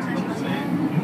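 A subway train runs through a tunnel, heard from the front car just behind the driver's cab: a steady, close, broadband rumble and rattle that persists throughout, with a low murmur of voices in the background.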